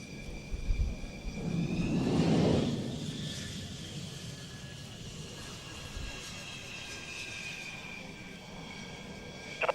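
French Rafale fighter jet swells into a rising roar that peaks and fades into a lingering high whine, with faint thumps early on.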